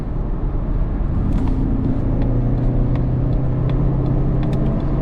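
A 2024 Mazda CX-30 Turbo with a six-speed automatic pulls steadily on the road, its engine a loud, continuous low rumble heard from inside the cabin with faint tyre and wind noise, and no voices.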